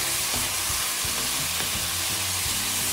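Sliced onions and peppers stir-fry in a hot wok, giving a loud, close, continuous sizzle and hiss with no voices.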